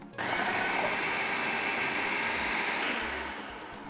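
A food processor chops tomatoes for olive jollof rice, a steady whirring motor grind lasting a few seconds, fairly close, then easing down near the end.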